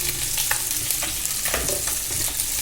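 Marinated mutton sizzles in hot oil in a pan, a dense, loud, hissing fry that stays continuous with a few faint utensil knocks and no voices.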